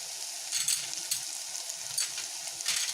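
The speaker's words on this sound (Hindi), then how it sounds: "पालक डालने के बाद इसको अच्छे से मिक्स कर दीजिए, चला दीजिए।" Spinach being mixed into a vegan curry in a pan, with a soft steady sizzle and light scraping stir strokes at an even rhythm, close and fairly quiet, with no talking.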